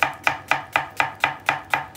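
A knife chops an onion on a cutting board in a home kitchen, giving eight crisp, evenly spaced strikes about a quarter second apart. The chopping is close and clear, with no talking.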